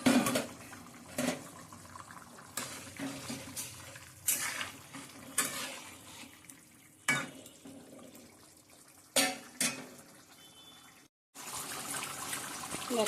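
Shrimp curry gravy with potato and sweet pumpkin simmers in a pan, a soft wet bubbling broken by several sharp clinks and scrapes from stirring, with a brief silent gap near the end.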